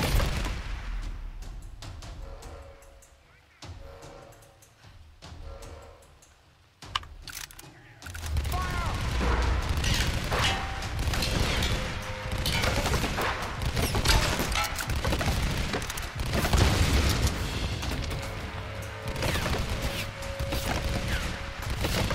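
Grenade launcher explosions and gunfire in the video game Tomb Raider: after a quieter opening, a dense, loud stretch of booming blasts and shots follows, overlapping with game effects while a person talks intermittently.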